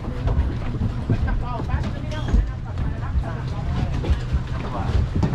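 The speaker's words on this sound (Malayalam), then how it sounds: "നമ്മളിപ്പോൾ കോലാൻ ഐലൻഡിൽ ബോട്ട് ഇങ്ങനെ എത്തിക്കൊണ്ടിരിക്കുകയാണ്." A ferry approaching Koh Larn island off Pattaya, Thailand, rumbles along under gusty wind buffeting the microphone, with water noise and people talking throughout.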